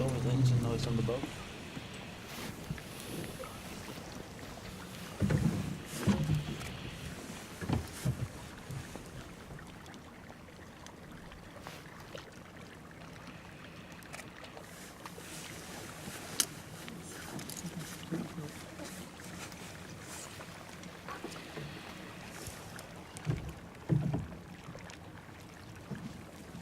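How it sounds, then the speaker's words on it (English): Steady engine drone from a boat off Svalbard runs under wind buffeting and water noise, with intermittent bumps and people talking over it. "It's always engine noise on the boat."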